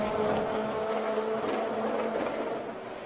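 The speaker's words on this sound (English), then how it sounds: "there is a car on track that we haven't seen in quite some time" A time attack race car runs a lap at Circuit of the Americas during a Super Lap Battle event, its engine a loud sustained drone that eases slightly as it moves away.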